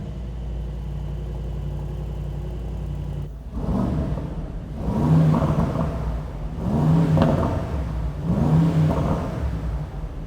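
A Brabus G63 Mercedes G-Class cabriolet, rated 800 hp, fires up and revs hard three times in quick succession, each rev swelling and falling back to a deep, steady idle; loud and close.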